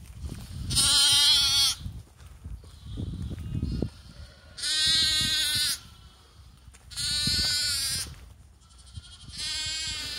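Spring lambs bleat outdoors in four loud, drawn-out wavering calls spaced a few seconds apart, with quieter rustling and faint background noise between them.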